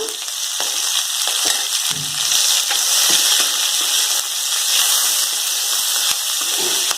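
Cut vegetables, with turmeric and asafoetida added, frying steadily in hot oil in a pan for a Maharashtrian ghevda bean dish, a dense continuous sizzle with occasional stirring clicks, close and fairly loud, with no talking.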